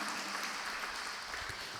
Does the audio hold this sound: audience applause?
yes